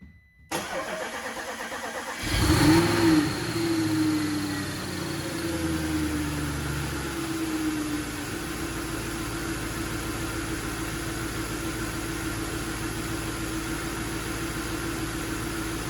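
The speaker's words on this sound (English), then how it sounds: "this is the first startup when the engine was built and put it back in" A rebuilt Audi RS4 V8 engine fires up for its first start after reassembly, a loud crank and catch followed by a rev flare that settles into a steady, even idle running on alone without talk.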